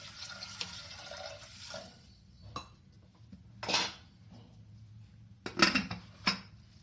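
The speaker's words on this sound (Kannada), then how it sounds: "ಒಂದಿಷ್ಟು ನೀರು ಹಾಕ್ಕೊಂಡು ನಾನು ಕುದಿಸ್ಕೊತೀನಿ." Water trickles into a pressure cooker set on a gas stove, followed by scattered metallic clanks and clatters of the pot, quiet and close in an indoor kitchen.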